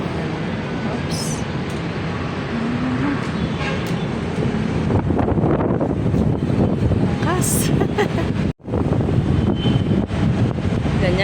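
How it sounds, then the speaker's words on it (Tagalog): Strong wind buffets the microphone high outdoors overlooking EDSA, a loud continuous roar with gusty rumble filling the whole clip, briefly dropping out near the end, while someone speaks over it. "Ang lakas ng hangin."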